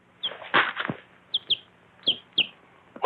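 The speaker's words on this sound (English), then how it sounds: "A chicken?" A chicken gives a few short, close clucks mixed with brief wing flaps, scattered in quick bursts with quiet gaps between.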